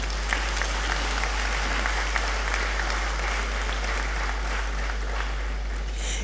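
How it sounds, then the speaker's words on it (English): Dense, steady applause from a large audience at a university congregation ceremony, sustained and even for several seconds over a constant low hum, with no talking. "I'm waiting for the applause."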